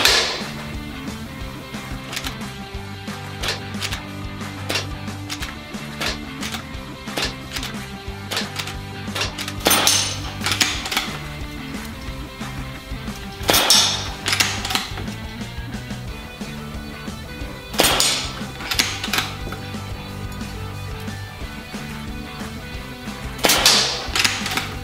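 SMK CP2 air pistol fired at targets: sharp, dry pops at irregular intervals several seconds apart, sounding over steady background music.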